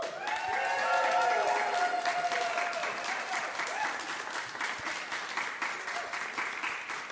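A crowd at a press conference on protecting Maine elections claps and cheers steadily, with scattered voices and whoops over the sustained applause.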